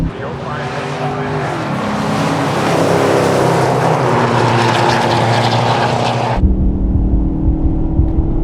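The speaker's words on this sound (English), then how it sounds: "there's a Magnum going down track" A Magnum drag car launching down the drag strip, a loud, close engine roar that builds and holds before dropping sharply to a lower distant rumble as it pulls away, with people talking faintly around it.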